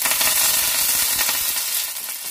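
Dried chili pieces, white mustard seeds and curry leaves frying in hot oil, a dense loud crackling sizzle that holds steady and fades slightly, close and without voices.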